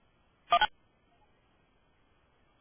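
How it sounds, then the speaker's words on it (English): A single short burst of telephone dialing tones during an online music-education webinar, marking someone logging in, sounds once, clear and close, then near silence follows. "Each time we hear the phone, is that somebody logging on?"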